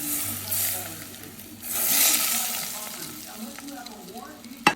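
Chillies and chilli powder dropped into hot oil for mango pickle, hissing and sizzling close up, swelling loudly midway, then settling into steady frying with stirring scrapes and a brief clack at the end.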